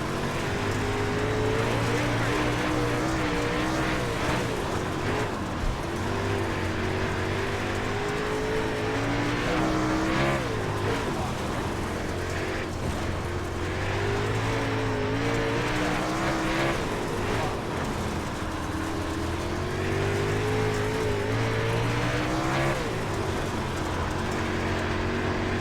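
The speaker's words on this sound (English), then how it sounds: "Day racing at Limaland is underway." Super late model race cars racing at Limaland, a loud continuous pack of engines roaring and rising and falling in pitch as the cars circle close by, steady throughout.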